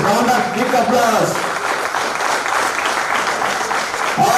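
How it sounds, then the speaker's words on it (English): Union Bank employees at a settlement ceremony applaud in a steady, full round of clapping, with a voice speaking over the start and end. "a great warm welcome, round of big applause"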